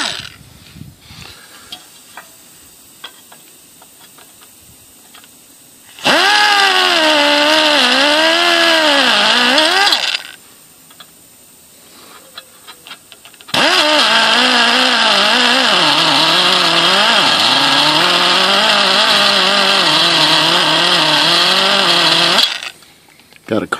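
A rotary tool fitted with a carbide bit shaves the side of a Yamaha WR250R motorcycle skid plate, whining loudly in two long bursts with pitch wavering under load, separated by quieter pauses.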